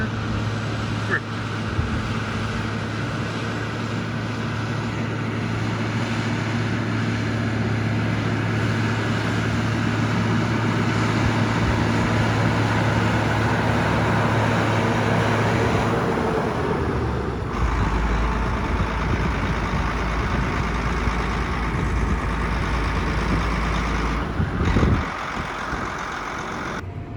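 A tractor pulls a small ripper through a field before corn planting, its engine droning loud and steady throughout, shifting to a deeper rumble partway through, with a few brief clunks.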